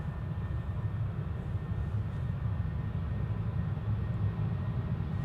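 A KLM Boeing 737-800 departing Amsterdam Schiphol Airport gives a steady, broad jet roar at moderate distance, continuous and unbroken.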